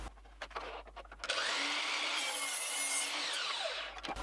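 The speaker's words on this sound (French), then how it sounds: "on va devoir recouper 1 cm de la planche pour redémarrer la procédure à zéro" A hand saw cutting through a wooden board, with a few short scraping strokes followed by a loud, sustained rasping cut up close and no talking.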